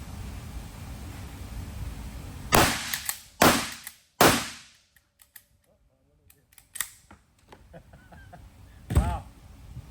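Shotgun shots ring out as several sharp, loud blasts, three in quick succession and one more near the end, each with a decaying echo and quieter clicks and rustles between.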